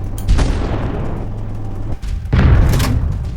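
Gunfire in a shooting video game: loud, sustained booming blasts with a brief dip before another heavy burst, dense and continuous, with no talking.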